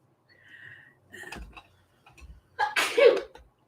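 A single sharp sneeze bursts out near the end, following a few quieter breathy sounds and brief murmurs in a quiet room.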